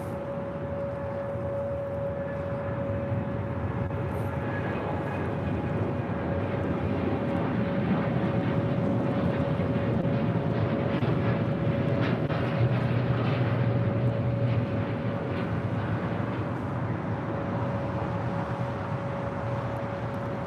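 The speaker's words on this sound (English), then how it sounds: "This is United Airlines 1603 taking off to Washington Dulles on a 787-9 Dreamliner" A United Airlines Boeing 787-9 Dreamliner takes off at LAX for Washington Dulles, a steady engine roar with a sustained tonal whine running throughout, swelling slightly mid-way, with no voices.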